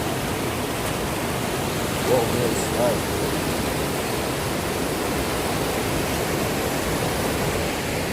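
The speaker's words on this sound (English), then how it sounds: "So peeps, that's the river." A flooded river in Trinity Ville, St Thomas, rushes past in a constant, dense roar of churning water, with a couple of brief voiced exclamations over it.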